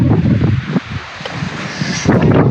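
Wind gusting across a rocky seaside at Babakale, Çanakkale, a loud broadband buffeting on the microphone that dips briefly and then surges again.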